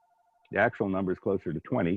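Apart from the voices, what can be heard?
telephone ringing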